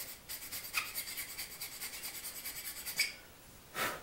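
A cheap Japanese hand plane with a single blade and no chipbreaker rubs over wood in a steady series of soft rasping strokes, about sixteen in a row, followed by a louder, longer pass at the end.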